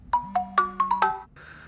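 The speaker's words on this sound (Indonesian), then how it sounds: "Tak lama telepon Minhee kemudian berbunyi" A mobile phone ringtone plays alone, a short melodic series of about five bright chiming notes followed by a softer tone, close and clear.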